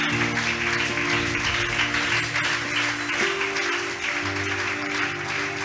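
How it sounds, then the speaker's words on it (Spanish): A church congregation applauds over sustained music, with a modest wash of clapping under the steady tones for the whole stretch. "Fuerte al Señor ese aplauso."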